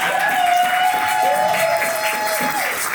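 Church congregation at a seminary clapping and cheering in acclaim for the king, a sustained mass of applause with voices and a held musical tone beneath, loud and continuous.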